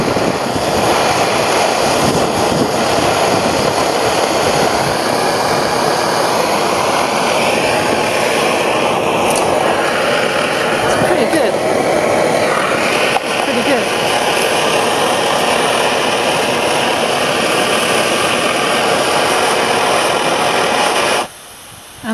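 A Primus Nova+ multifuel stove roars loudly and steadily as it burns off the fuel left in its line, then cuts out abruptly at the very end.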